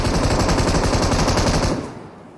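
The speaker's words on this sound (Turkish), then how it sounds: "adamlara bir şarjör atıyorum anca ölüyordur" Sustained machine-gun fire in the shooter game PUBG Mobile, a loud, dense rapid burst of shots lasting nearly two seconds before cutting off and fading, with no talk over it.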